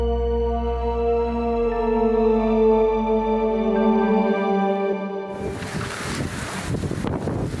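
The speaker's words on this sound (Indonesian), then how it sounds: "Ya ini angin aja, kan anginnya ekstrem di sini kencang ya." Strong, gusty wind at an outdoor site where a giant bamboo sculpture is being built in Bali, roaring steadily against the microphone with low rumbling buffeting that swells into a harsher, broadband blast near the end; no talk.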